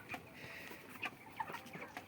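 Forty-day-old Suguna broiler chickens on a poultry farm of about 5000 birds cluck softly in scattered, irregular calls, faint and somewhat distant against a quiet background.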